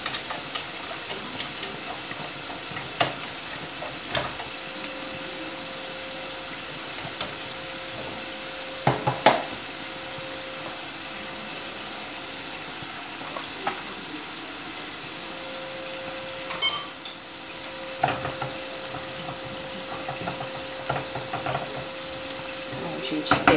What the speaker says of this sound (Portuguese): deixa fritar bem a linguiça, o bacon e os temperinhos nessa farofa